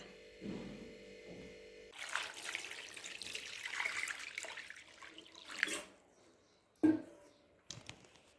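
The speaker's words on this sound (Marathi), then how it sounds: "हे वेफर्स पुन्हा एकदा स्वच्छ पाण्याने धुवून घ्यायचे म्हणजे वेफर्स आणखीन स्वच्छ होतात" Sliced potato wafers are rinsed in clean water, a soft splashing and trickling for a few seconds that stops, then a couple of brief knocks and taps.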